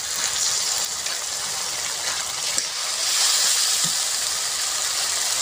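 Whole coriander seeds, cumin and dried chillies sizzle steadily in hot oil, a continuous bright hiss and crackle heard close up with no talking.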